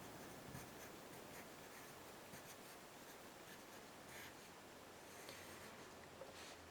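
Pen or pencil scratches out a math equation on paper, a soft, faint run of short strokes and taps with brief pauses, close and quiet.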